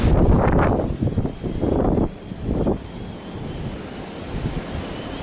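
Strong wind blowing outdoors where trees sway, heard as loud rushing gusts that buffet the microphone in bursts and then ease to a steadier roar, with no talk.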